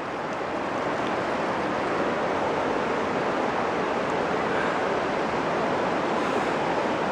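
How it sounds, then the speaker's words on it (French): A small river flowing just below a hiking path, its steady, dense rushing of water filling the whole stretch at an even level with no pauses or other sounds. "Avec la petite rivière juste en dessous."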